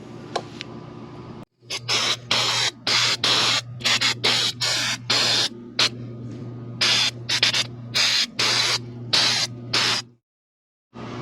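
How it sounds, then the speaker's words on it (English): A loud spray hisses in repeated bursts of a second or so, starting and stopping many times over a steady low hum, ending in near silence, as metal chips are sprayed off a part during an oil change on a 2022 Husqvarna FC350. "Just spray it, get all that off"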